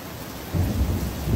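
Thunder rumbles low and heavy through a thunderstorm, swelling after a quiet start and rolling on steadily with rain-like noise beneath, fairly close and loud, with no voices.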